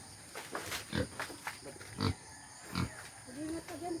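A pig on a rural Leyte property in the Philippines grunts in a series of short, low snorts at irregular intervals, fairly faint, with a voice speaking near the end.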